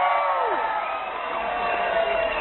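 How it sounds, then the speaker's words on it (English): Large outdoor crowd outside Westminster Abbey at a royal wedding cheering loudly as a couple is declared married, a dense, sustained roar of many voices at a distance with no single voice standing out. "outside a massive cheer went up as the Archbishop of Canterbury declared the couple married"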